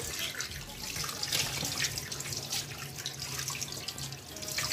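Fish for Cameroonian-style braised fish being rinsed under running tap water: a steady, close splashing flow into a sink with small fluctuations, and no voices.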